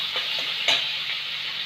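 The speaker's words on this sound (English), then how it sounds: "Put ginger garlic paste, 2 teaspoons. Saute" Ginger garlic paste sautés in a pan for a Goan-style stuffed squid dish, a continuous close sizzle broken by a few soft stirring scrapes, with no talk.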